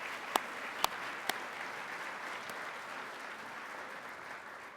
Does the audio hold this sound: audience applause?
yes